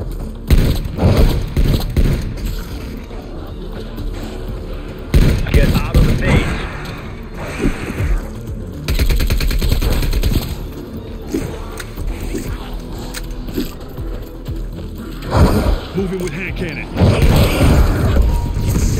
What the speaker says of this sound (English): Hand cannon going hot.